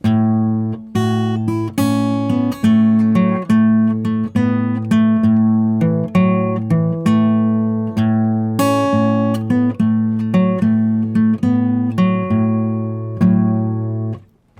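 A clean electric guitar plays a blues riff, plucked notes and chords in a steady rhythm, close and clear, with no voices.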